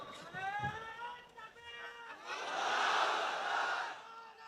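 A large crowd roars the takbir chant in a swelling collective shout that rises and holds, with a voice heard before the roar.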